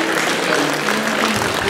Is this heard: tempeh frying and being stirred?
no